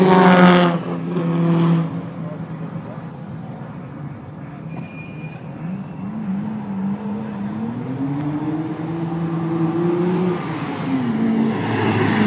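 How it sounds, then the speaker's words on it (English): A Skyline GTS Silhouette rally car on a tarmac rally stage drives past, engine note rising and falling as it nears and pulls away, loud and fairly close, with brief talk at the start. "Skyline GTS Silhouette."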